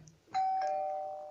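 A mobile phone ringtone that mimics a doorbell chime rings out clearly, a bright sustained tone starting abruptly and slowly fading, heard alone in an indoor room.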